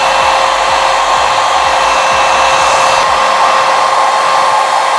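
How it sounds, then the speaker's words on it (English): A hair dryer blows steadily and loudly at close range, drying a lace frontal wig, its constant airy roar unbroken throughout. "What I'm gonna do to just speed up this whole drying process is use my dryer again."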